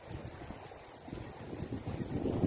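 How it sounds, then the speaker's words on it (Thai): Strong, cool seaside wind buffets the microphone in a low rumbling roar that swells toward the end, with a faint wash of water beneath and no talk. "เย็นลมลมเย็นค่ะ ลมแรง"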